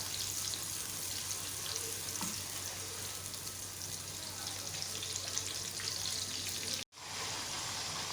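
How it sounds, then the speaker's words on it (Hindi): Onions frying to golden brown in a pan for chicken aloo pulao, a steady broadband sizzle running throughout without talk, cutting off abruptly near the end. "प्याज फ्राई हो गए।"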